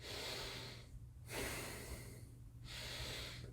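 Slow deep belly breaths, close and hushed, with a long breathy inhale and exhale repeating roughly twice, no talking.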